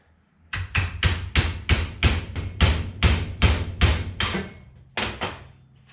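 A steel punch is struck repeatedly with a hammer to drive an old axle bush out of an FJ45 axle housing clamped on a workbench. About a dozen loud, sharp metallic blows land in a steady rhythm, with a final pair after a short pause.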